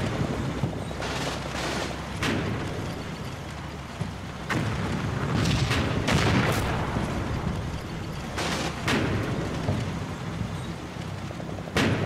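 Artillery barrage in the Combat Mission Blitz wargame: a steady rumble of repeated heavy booms and explosions, with sharp individual impacts landing every second or two over a continuous low roar.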